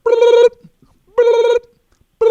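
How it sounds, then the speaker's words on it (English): Telephone ringing at a small retail shop, loud electronic ring bursts with a clear harmonic tone, two full rings separated by a pause and a third starting at the end, close and with no talking. "The phone rings."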